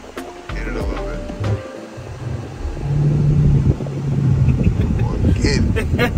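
A car accelerating hard on an open road: engine rumble builds into a loud, sustained roar with rising tone under wind noise, and people talk inside the cabin.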